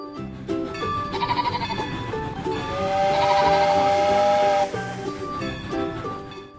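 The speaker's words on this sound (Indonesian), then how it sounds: "Domba." A sheep bleats in a children's animal-learning cartoon, a wavering cry heard over a chugging toy-train rhythm and a long steam whistle blast.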